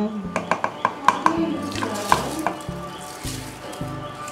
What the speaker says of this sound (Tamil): இப்போ நம்ம ஊற வச்ச அரிசியை போட்டுக்கலாம்